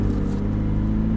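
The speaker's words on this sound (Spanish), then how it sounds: "El sonido del motor ya es impresionante." McLaren 570S engine, a steady deep idle rumble close by, loud and continuous, with no talk.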